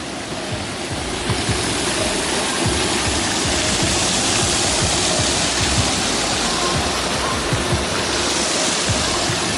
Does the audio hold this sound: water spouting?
yes